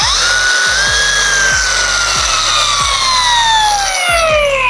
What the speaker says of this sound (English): So SP's grinders, their new Ranger grinders, has a variable speed.